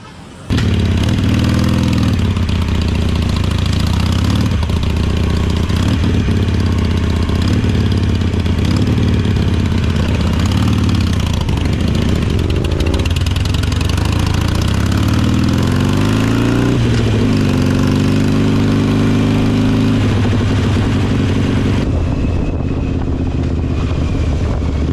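A motorcycle engine idling close by, a loud steady low rumble that runs throughout with small shifts in pitch and a brief rev toward the middle.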